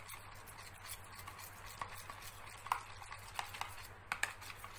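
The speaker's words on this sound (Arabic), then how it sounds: "وهنقلبهم كويس جدا مع بعض" A spoon stirring cornstarch into a mixture in a bowl gives soft, close scraping and light clinks, quiet and steady with a low hum behind it.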